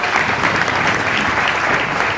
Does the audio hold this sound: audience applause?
yes